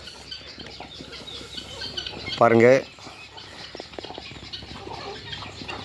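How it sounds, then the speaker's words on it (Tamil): Chickens on a farm of roughly a hundred or more birds, with one short, loud, quavering call rising above a low scattered flock murmur while someone speaks nearby. "கிட்டத்தட்ட ஒரு 100-200 கோழிகள் இருக்கும்."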